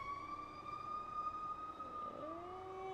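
An emergency vehicle siren passes by, holding a steady wailing tone before it drops in pitch as the vehicle goes past. The siren is faint and distant, with no talk.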